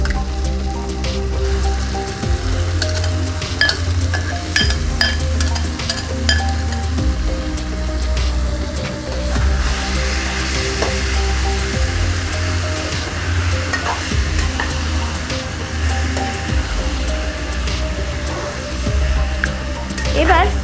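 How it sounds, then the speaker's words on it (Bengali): Marinated mutton for a potato mutton curry frying in a spice paste in a pan, with a steady loud sizzle and repeated scraping stirs throughout, and a voice talking at times over the cooking. "ম্যারিনেট করে মাংসটা দিয়ে দিচ্ছি।"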